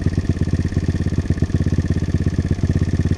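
A Kawasaki KLX140 dirt bike with a 170cc big bore kit idling close by, a loud, even putter of rapid regular firing pulses that stays steady throughout, with no voices.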